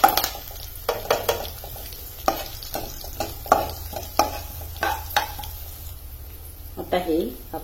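Chopped green chillies, curry leaves and sesame seeds are stirred in a pan. A soft crackle runs underneath repeated scraping and clinking stirring strokes, with a faint voice now and then.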